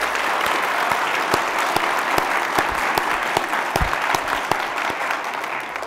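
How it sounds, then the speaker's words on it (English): Applause from an audience at an NBA FIT event on a school campus, a loud, continuous patter of many hands clapping with sharp individual claps standing out, close and alone without talk. "Please give them a huge round of applause."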